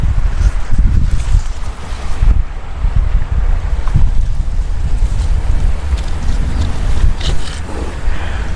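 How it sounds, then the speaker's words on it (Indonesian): Strong wind buffets the microphone in continuous rumbling gusts, loud and close, with a rushing roar throughout and no talking. "Anginnya kenceng."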